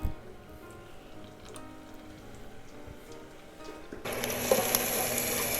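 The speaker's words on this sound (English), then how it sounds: "The fryer is ready, and we're gonna fry them right away." Coconut shrimp go into a hot deep fryer: a steady, soft crackling bubble jumps to a louder, brighter sizzle partway through, with no talking.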